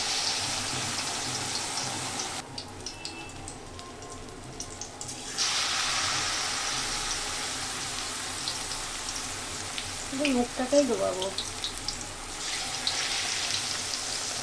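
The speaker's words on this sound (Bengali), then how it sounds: "তেল গরম হয়ে গেছে এবার এই ময়দা মাখানোর মধ্যে যে পুরের মুখটাকে ডুবিয়ে নেব নিয়ে এবার ছেড়ে দেবো" Flour-battered, stuffed bitter gourd sizzling in hot oil for a vegetarian bharua: a steady, close frying hiss runs throughout, swelling when pieces go in, with a brief spoken voice partway through.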